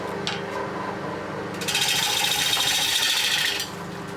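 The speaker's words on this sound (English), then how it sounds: "now I've got the block on the lathe, I'll try and attempt to do the back" A wood-turning lathe cuts the back of a bowl blank mounted as a block, giving a steady close scraping rasp that swells louder midway as the tool bites harder, then eases back, with no talk.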